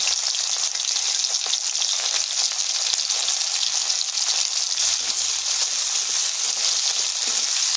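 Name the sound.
onion and green chili frying in oil in a pan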